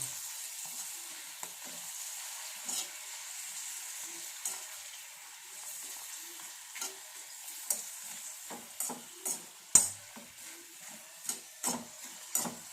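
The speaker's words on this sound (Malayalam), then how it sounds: "ഇതിലേക്ക് ഈ കമ്പിയും കൊണ്ട് ഇങ്ങനെ ഇങ്ങനെ മാറ്റി മാറ്റി ഇട്ട് കൊടുത്ത് അങ്ങനെ വറുത്ത് വറുത്തെടുത്താൽ മതി കേട്ടോ" Papadam frying in hot oil on a home stove, turned with a metal rod, gives a steady soft sizzle with scattered clicks and light scrapes. It runs alone at close range with no voices.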